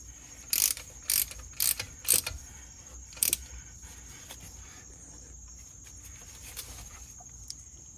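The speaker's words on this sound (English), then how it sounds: "I got all the screws hand tight, and now we're gonna tighten these." A ratchet tightens the screws on a Mercedes differential cover in a short series of quick clicking bursts, about five close together, then a few faint clicks after a pause.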